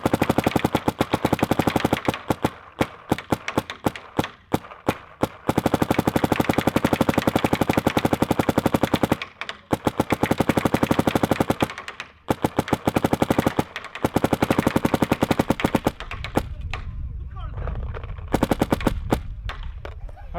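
A paintball marker fires Gorilla paintballs at a pole outdoors: long rapid bursts of sharp, loud pops, broken by brief pauses, with quieter scattered shots near the end.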